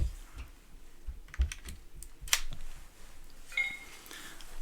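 Quick, light clicking of fingers typing on a tiny, close-keyed keyboard for an iPad, irregular taps with a few louder key presses, close and quiet.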